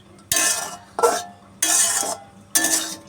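A utensil stirring cooked food in a pan with the gas off, four separate scraping, clinking strokes with short pauses between them, close and clear.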